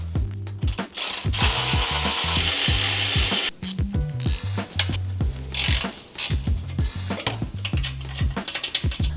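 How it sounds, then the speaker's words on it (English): A ratchet wrench works the lower mounting bolts of a Lexus GX550 crash bar, rapid clicking strokes in repeated bursts, close and loud, with brief pauses between runs. "after you remove the 4 lower bolts down here, the crash bar is gonna sag"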